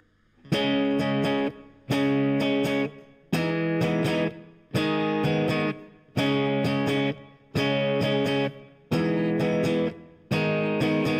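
Distorted electric guitar chords are strummed in seven evenly spaced, sustained blocks, each ringing about a second before cutting off, loud and close with no voices.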